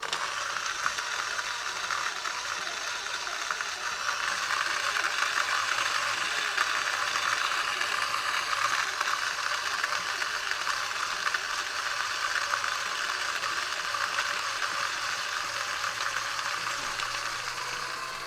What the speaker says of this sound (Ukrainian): не кожна кавомолка може її прожувати на дрібному помелі